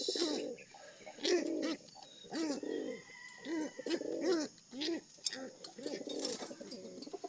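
Pet pigeons coo close by in repeated rolling phrases, a soft throaty sound pulsing every second or so, with faint chirps and background noise between the calls.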